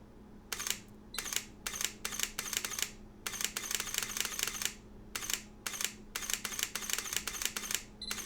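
Sony A7 camera shutter firing in a long series of quick bursts and single clicks, each a sharp mechanical snap, close and moderately loud over a steady low hum, with short pauses between groups.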